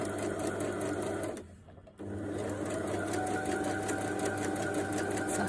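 A sewing machine stitches fabric for a reversible bucket hat, running as a loud, steady close whir that stops briefly for about half a second before resuming evenly.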